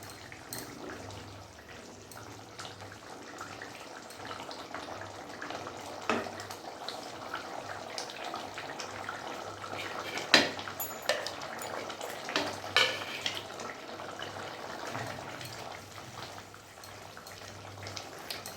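Egg curry bubbling steadily over a full gas flame, a soft continuous burble and simmer with scattered pops and a few sharp utensil clinks against the pot, fairly close and with no one speaking.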